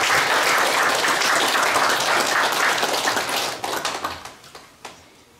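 Loud audience applause at a book launch event honoring a monk, dense and sustained, then thinning into scattered individual claps that fade out near the end.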